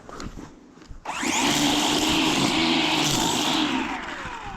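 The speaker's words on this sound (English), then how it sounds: "Let's go and trim along the fence line here." A string trimmer fitted with a refilled head cutting grass along a fence line, its motor snapping on abruptly after a second and holding a loud, steady whining buzz close by until the end.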